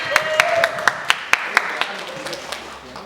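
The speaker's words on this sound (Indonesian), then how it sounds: "Tepuk tangan dulu dong, beri semangat." An audience at a question-and-answer event claps in sparse, spaced claps of moderate loudness that thin out toward the end, with a voice briefly audible underneath.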